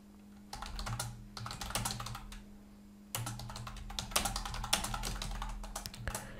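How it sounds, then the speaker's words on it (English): Close, quiet typing on a computer keyboard, with quick bursts of key taps and a short pause partway through. "type in your text here."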